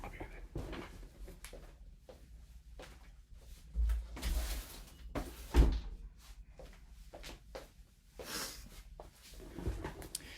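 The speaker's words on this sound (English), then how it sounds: "I'm going to close my door." A door thuds shut close by, with a sharp knock around the middle, amid quiet shuffling and handling noises inside a small space.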